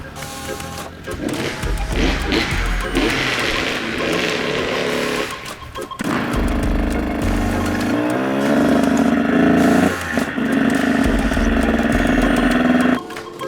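A pit bike motorcycle engine runs close by with a steady buzzing drone, its pitch lifting and holding higher partway through as the throttle opens.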